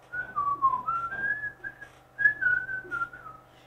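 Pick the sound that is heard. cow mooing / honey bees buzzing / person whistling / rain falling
person whistling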